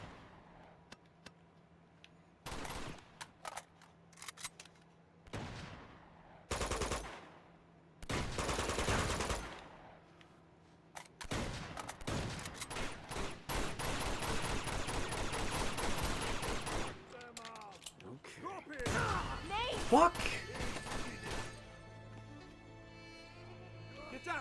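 Gunfire in the video game Uncharted 2, heard as sharp separate shots and longer rapid bursts of fire, fairly loud, with quieter gaps and some game sounds between volleys.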